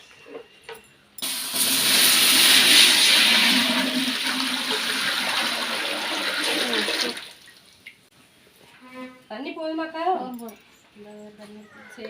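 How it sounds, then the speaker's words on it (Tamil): Water pours steadily and loudly into a pot on a stove for several seconds, then stops; someone talks afterward in Tamil. "இப்போ தண்ணி சேர்த்துக்கலாம்"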